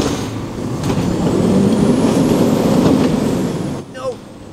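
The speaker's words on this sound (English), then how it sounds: "The trucks come early today." A cartoon garbage truck rolls in with a loud, rising engine roar and rumble, then hisses its air brakes with a sharp squeal as it stops close by.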